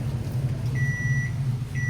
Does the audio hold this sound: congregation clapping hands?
no